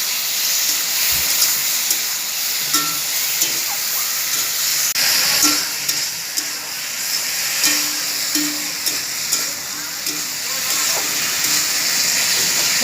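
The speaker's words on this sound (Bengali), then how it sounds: "সবজিটা 3-4 মিনিট ধরে একটু ভালো করে কষিয়ে নেব।" Vegetables with potato and ridge gourd sautéing in a pan give off a steady, close hiss and sizzle that runs for the whole stretch, with faint clinks of stirring now and then.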